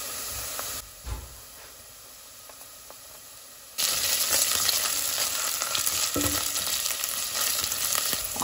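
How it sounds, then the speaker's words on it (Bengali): Ginger garlic paste and chopped green chillies frying in oil after browned onions, a faint crackle that jumps to a loud, steady sizzle near four seconds, with light stirring scrapes and no speech. "আদা রসুন বাটাটা একটু ভাজা ভাজা হয়ে গেলে"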